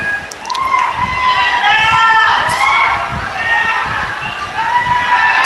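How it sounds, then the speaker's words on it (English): Nepal fans cheering at a T20 cricket match against Kuwait, a large crowd's continuous roar with rising whistles and shouts, heard at a distance beneath a commentator's voice. "The Nepal fans are going to cheer every run they can get."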